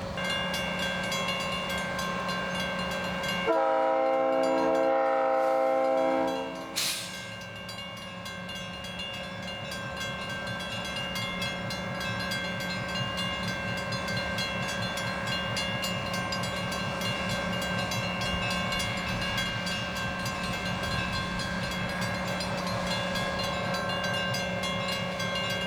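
A westbound excursion train of vintage equipment departs Eden: a loud multi-tone horn blast, then a steady rolling rumble with faint rhythmic wheel clatter that continues throughout, heard alone without voices.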